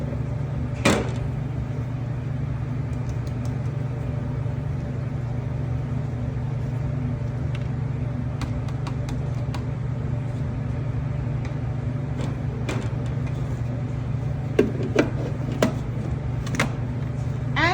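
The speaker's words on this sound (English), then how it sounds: "We put everything into our food processor." Food processor blending carrot top pesto with toasted pine nuts and Parmesan: a steady, loud motor drone runs unbroken throughout, with a few faint clicks and knocks on top.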